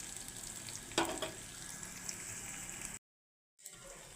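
Onion, garlic and ginger frying in a pan, a soft, steady sizzle with a brief clatter near the start and a short silent gap before the frying resumes; no one speaks.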